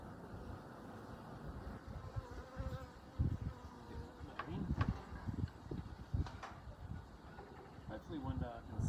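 Honey bees buzz around an open hive with frames of honey and brood, a faint, continuous drone with individual insects passing close, while a person speaks softly nearby.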